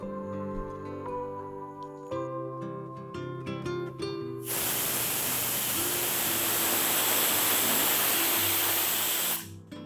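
A pressure cooker holding multigrain khichdi on high flame releases steam as a loud, steady hiss lasting about five seconds, then stops abruptly, following several seconds of soft tonal background music.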